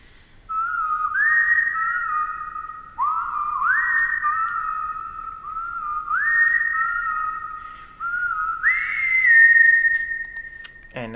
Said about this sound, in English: I came up with this melody that I decided to whistle and record into